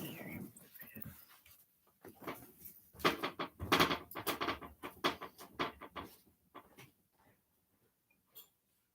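A pet dog whimpering and panting indoors, with soft rapid breathy bursts and brief whines close by, mixed in with someone talking.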